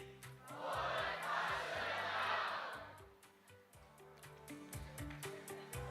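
Conference audience shouting a short slogan in unison at a sustainable-business event, a loud swelling crowd roar for about three seconds that then fades, with background music underneath.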